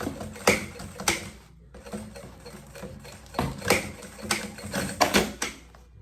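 A sewing machine runs in short, uneven bursts of rapid mechanical chatter with brief pauses as it stitches a bag strap, close and moderately loud, no talking.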